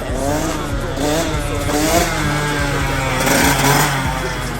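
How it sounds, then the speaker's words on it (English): A two-stroke dirt bike engine during wheelie practice, droning and revving steadily up close with a buzzy, raspy tone throughout. "I'm starting to get more comfortable coasting on the two strokes now"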